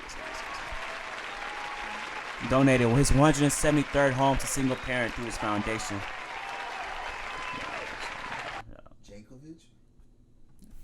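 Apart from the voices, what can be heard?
audience applause for Warwick Dunn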